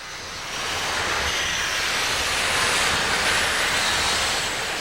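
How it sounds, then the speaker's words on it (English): A broad, steady hiss and rumble from a nearby steam locomotive with pounding pistons on Switzerland's Albula Line swells and holds at a constant loud level, with no voices. "Sliding slowly, slick and hissing, firing young steam-driven imagination, power plus in pounding pistons"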